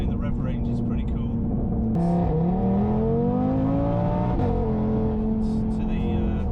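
An Audi TT RS with a stage 3 big-turbo conversion making about 600 bhp accelerates hard, its engine note climbing in pitch through the middle and settling again, steady and loud with a voice speaking over it.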